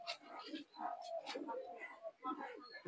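A Pakistani pigeon coos in soft, throaty bursts, close by, mixed with a voice talking over it.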